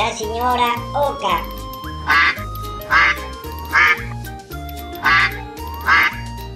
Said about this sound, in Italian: Avanti la signora oca.